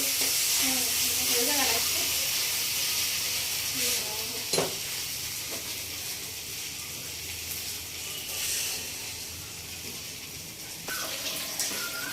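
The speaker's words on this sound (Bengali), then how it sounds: "ঠিক আছে লতি ভাজা" Taro stolons fry in a pan with a steady broadband sizzle and hiss throughout, joined by a few scraping stirs and light clinks, at moderate closeness.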